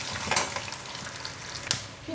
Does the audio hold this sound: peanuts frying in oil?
yes